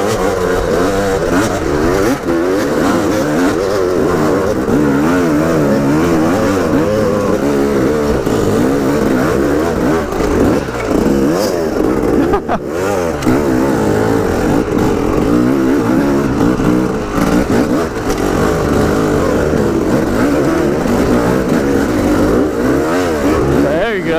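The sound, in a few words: motorcycle engine revving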